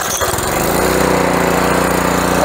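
A Honda small engine revs hard on full choke, a loud, steady, rough roar with a fast throbbing pulse that runs unbroken after a brief start, no voices.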